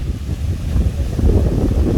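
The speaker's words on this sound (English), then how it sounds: "See those waves?" Atlantic Ocean waves break on a beach at night in Boca Raton, Florida, a loud continuous low rumbling wash of surf heavily buffeted by wind noise on the microphone, with no voices.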